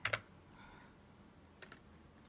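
A few light computer keyboard keystrokes sound near and quiet, a quick pair at the start, a steadier patch of faint tapping, then another short pair near the end, with no talking.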